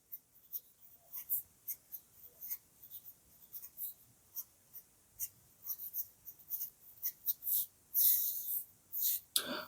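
A pen scratches out math working on paper, close and dry, in quick irregular strokes and taps that grow denser and louder toward the end, with no talking.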